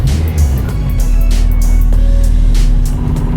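Steady low rumble of a car on the road during a test drive, a loud constant engine and road noise from inside the cabin, with faint clicks and rattles on top.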